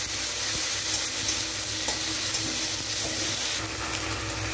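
Chopped tomato and ginger hit a hot kadai and sizzle loudly and steadily up close, with a few stirring scrapes over the dense, continuous frying hiss.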